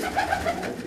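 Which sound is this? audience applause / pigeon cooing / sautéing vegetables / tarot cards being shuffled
pigeon cooing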